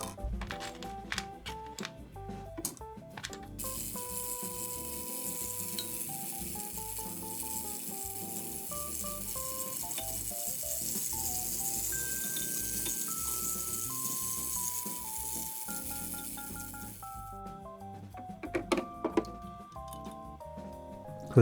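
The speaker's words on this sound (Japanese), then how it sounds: "超音波で部品を洗浄します。" A high, steady hiss of an ultrasonic cleaner cleaning parts fills the middle of the clip, with soft clinks and tones around it, quiet and continuous.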